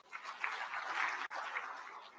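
An audience at an investment conference in Murang'a, Kenya, claps steadily in a faint, continuous patter, with one brief dropout midway.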